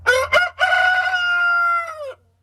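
Eddie the rooster crows once, loud and close: two short clucking notes, then a long sustained call that holds steady and cuts off, with a faint hum behind it.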